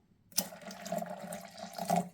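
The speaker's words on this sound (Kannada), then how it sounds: "ಇನ್ನು ಸ್ವಲ್ಪ ನೀರು ಆ್ಯಡ್ ಮಾಡ್ತಾ ಇದ್ದೀನಿ." Water is poured into a mixer jar holding blended ABC juice, a short soft gurgling splash lasting about two seconds, close and fairly quiet.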